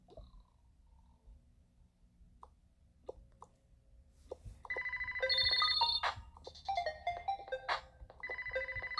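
A phone rings repeatedly with an electronic ringtone, its bright chiming tones starting after a few quiet seconds of faint clicks and becoming loud and insistent through the rest.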